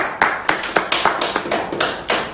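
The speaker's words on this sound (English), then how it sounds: "give him a round of applause" Applause for a donor from a small group, about ten sharp, separate claps in an uneven rhythm, close and fairly loud with no voices.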